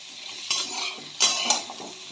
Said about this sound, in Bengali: এবার আমি সবজিগুলোকে একটু অল্প করে ভেজে নেব।